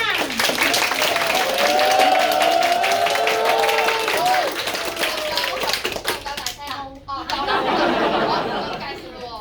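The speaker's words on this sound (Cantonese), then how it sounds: "不如俾大聲啲嘅掌聲我哋啦！" Audience at a school graduation show claps and cheers loudly and steadily, with crowd chatter and children's voices mixed throughout the applause.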